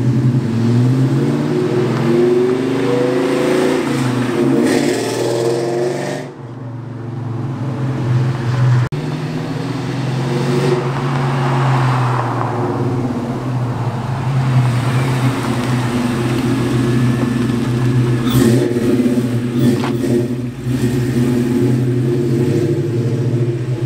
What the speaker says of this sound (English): he's just gonna do some drive-bys right now so you can hear what it sounds like with the long tube headers and the uncatted